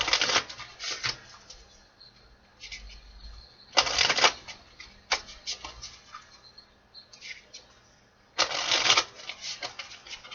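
Cards riffle and flutter in three separate bursts, close and crisp, with quieter handling and shuffling noises between them.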